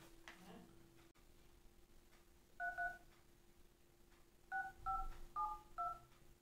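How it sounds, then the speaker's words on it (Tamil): Telephone keypad dialing tones, a pair of short beeps followed by a run of four more evenly spaced, over a quiet room hum. "அவருக்கு ஃபோன் போடுவோம்."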